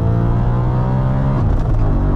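Tuned Audi RS4 Avant engine revving hard and high at night, a loud, continuous close-up engine roar with strong steady harmonics, dipping briefly as the revs shift near the end.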